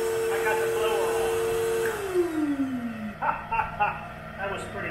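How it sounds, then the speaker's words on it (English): A blower runs with a steady drone that falls in pitch as it winds down, then gives way to short bursts of airflow, close and fairly loud. "Oh, I got the blower on."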